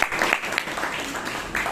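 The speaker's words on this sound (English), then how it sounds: "Please give a big round of applause to Mr." Brief applause from a small audience at a Toastmasters club meeting in Bangalore, a steady patter of clapping hands that lasts under two seconds.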